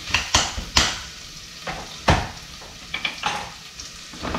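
Galangal, ginger, chilies, onions and kaffir lime leaves frying in a pan, with a soft steady sizzle broken by several sharp clanks and scrapes of a utensil stirring against the pan.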